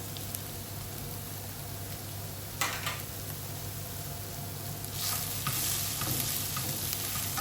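Pork vindaloo sizzles steadily in a pan as ground spices like coriander, garam masala and turmeric are stirred through, with brief louder scraping bursts from the spoon and no voices.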